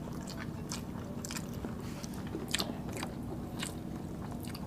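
Close, quiet biting and chewing of onion eaten with spicy Filipino pork bistek, crisp crunchy bites recurring over a steady soft background of mouth noise, with no talking.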